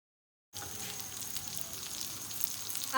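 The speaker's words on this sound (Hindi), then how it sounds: "चले जी अब कबाब को फ्राई करते हैं।" Aloo kebabs fry in oil on a tawa, giving a steady, bright hiss and crackle that starts abruptly after a brief silence and continues close up on its own.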